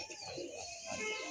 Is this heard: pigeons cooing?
yes